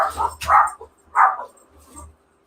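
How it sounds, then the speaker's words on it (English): Dogs barking indoors nearby, a few sharp barks and yips in quick bursts with a brief pause between, fairly loud and close, with some voices talking around them. "I hear dogs."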